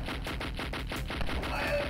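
Rapid automatic gunfire from the video game Escape From Stalliongrad, a steady string of evenly spaced shots at a quick rhythm, moderately loud and continuous throughout with no talking.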